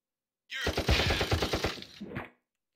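A machine gun in the video game Incubation fires a quick burst of about a dozen rapid, punchy shots that ends in a short rattling tail, close and fairly loud.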